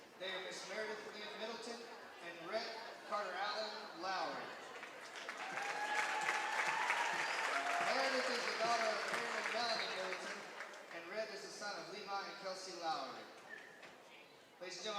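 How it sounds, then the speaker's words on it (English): Audience applause for a school homecoming court ceremony at a Norfork vs Valley Springs homecoming game, swelling to a sustained loud crowd clap in the middle, with a voice speaking over the start and end. "Let's give them a round of applause."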